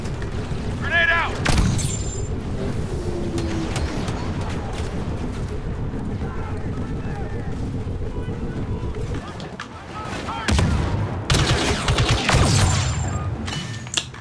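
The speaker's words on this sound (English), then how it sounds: "Grenade out!" Explosions and gunfire burst from a Star Wars Battlefront 2 grenade fight, loud and near, with bangs and crackling shots over a continuous battle roar and a brief quieter lull midway.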